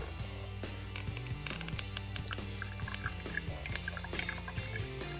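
Fresh-squeezed lemon juice, about an ounce, is poured into a whiskey sour in a home cocktail setup. The trickle is brief and faint, with no talk over it.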